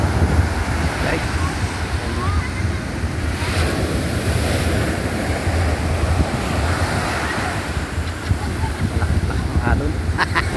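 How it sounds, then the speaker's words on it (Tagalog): Strong ocean surf rolls continuously onto a beach in Bagac, Bataan, a loud steady roar of breaking waves with wind buffeting the microphone throughout. "Malakas-lakas ng alon."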